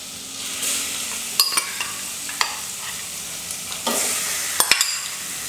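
Sharp metallic clanks and scrapes of a utensil stir-frying pork bones with salt in a 20-inch pot, with a steady sizzle of frying underneath.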